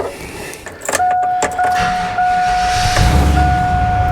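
A 2002 Chevy Avalanche 2500 with an 8.1L 496 V8 cranks briefly and fires up into a loud, close idle while a steady high-pitched chime rings over the engine.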